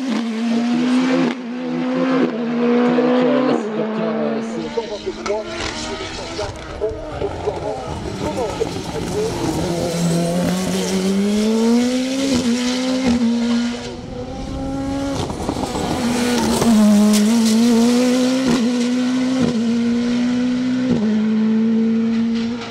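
A Revolt 3P0 Turbo race car climbs a mountain hill-climb course at Mont Dore, its engine wailing and rising and falling through repeated gear changes. The car is close and loud, with commentary running over it.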